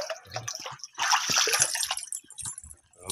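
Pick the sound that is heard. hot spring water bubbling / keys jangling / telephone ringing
hot spring water bubbling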